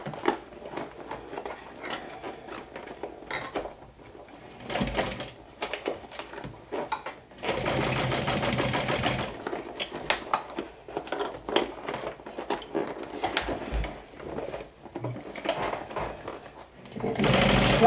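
A sewing machine stitches a crossbody saddle bag with rainbow top thread and black bobbin thread, running in bursts of rapid close mechanical stitching with a steady longer run in the middle and short pauses between.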